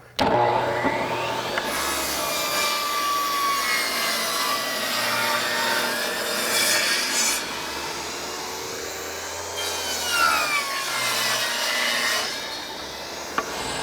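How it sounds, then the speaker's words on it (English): A table saw whines steadily as it cuts the top off a wooden deck board, the pitch dipping under load, with a second surge of cutting near the end. "I'm gonna take the table saw and cut the top of this board off"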